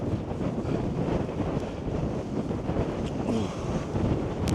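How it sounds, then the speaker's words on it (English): Strong, gusty wind buffets the microphone on the exposed summit of Snowdon, a loud, continuous roar with rumbling low-end swells and no break throughout. "I don't know if you can hear the wind"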